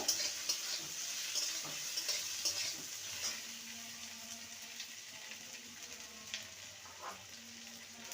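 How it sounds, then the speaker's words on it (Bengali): Fried potatoes with grated ginger and green chili sizzle softly in a pan. Gentle frying crackle runs under repeated light scraping and stirring strokes, fairly quiet and close. "এবার এখানে গ্রেট করা আদা আর কাঁচা লঙ্কা সেটা দিয়ে দেবো ভালো করে নেড়ে নেব"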